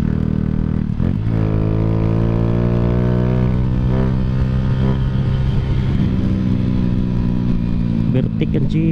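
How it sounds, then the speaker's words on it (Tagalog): A jeepney passing on the road gives a loud, steady engine drone with a rising and falling rumble that lasts the whole time, with a voice speaking over it. "Grabe yung jeep oh."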